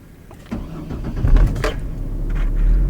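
A car engine starting after its fuel tank was replaced: a starter engages, then the motor catches and settles into a steady, close idle.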